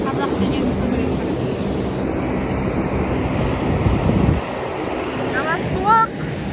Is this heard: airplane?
yes